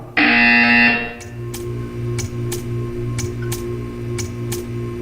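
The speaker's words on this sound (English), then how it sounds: "You will hear a buzzer." A loud electronic buzzer from Portal 2 blares for about a second, then a hum continues with regular faint ticking clicks.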